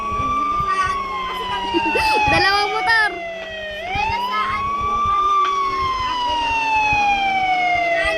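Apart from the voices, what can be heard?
ambulance siren in video game Los Angeles Crimes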